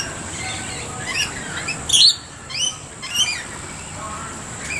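Parrots at a bird sanctuary chirp and squawk while being fed bread, several short bright calls scattered over a steady background hiss, fairly faint and without talk.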